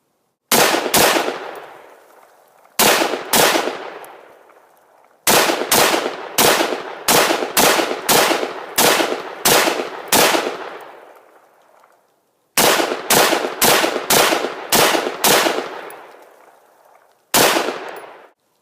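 A rifle firing hand-loaded rounds offhand outdoors: sharp, loud individual cracks in uneven clusters of two to nine shots, each with a brief echoing tail, with pauses between strings and no talking.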